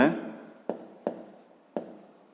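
A pen writes a measurement by hand on paper: a close scratch at the start, then three short, distinct scratching strokes at irregular intervals, crisp and quiet against a silent background.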